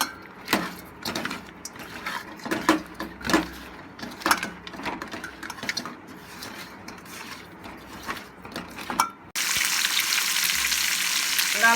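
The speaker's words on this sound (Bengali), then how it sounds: "সব কিছু ভালো করে ভেজে নেবো মাছটা।" Salted, turmeric-rubbed pona fish sizzles in hot oil, with irregular clacking and scraping from stirring near the start, then a dense, steady loud frying hiss takes over.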